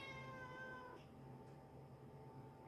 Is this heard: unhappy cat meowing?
yes